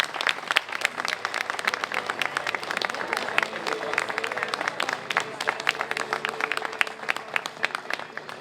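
An audience at a celebration for Oregon first responders claps loudly and steadily for firefighters' families, with dense, sustained applause and some crowd murmur throughout.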